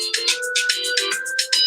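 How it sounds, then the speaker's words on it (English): A phone rings indoors with a repeating electronic ringtone, loud and close, pulsing in quick even bursts throughout with no talk. "So if you can stand the ringing for a second,"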